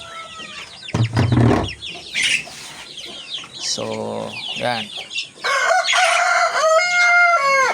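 Dong Tao roosters in a pen, close, loud crowing bursts and clucking mixed with other birds, with a person speaking briefly among them.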